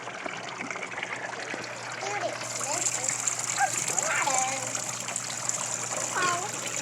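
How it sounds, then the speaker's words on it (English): Water pouring and trickling down a kids' water table waterfall outdoors, a steady soft splashing stream, moderately quiet, with children's chirpy voices and adult talk over it. "Pours down here. And it's supposed to trickle down these things and make them spin."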